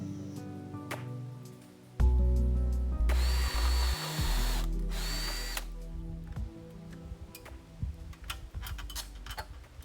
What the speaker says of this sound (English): First, I'm going to pre-drill my holes.